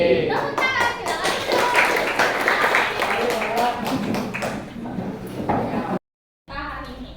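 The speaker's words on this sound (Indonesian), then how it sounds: "Tepuk tangan, silakan." An audience of students clapping hands in a classroom, a burst of quick, uneven claps lasting several seconds, then a brief silence followed by a short return of sound with voices.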